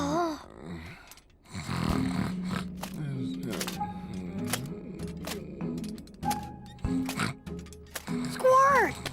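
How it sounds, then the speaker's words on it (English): Cartoon character snoring in a children's animated story, a series of rasping, groaning snores with creaky mechanical undertones, close and fairly loud, mixed with other voices talking. "Sparky's snoring!"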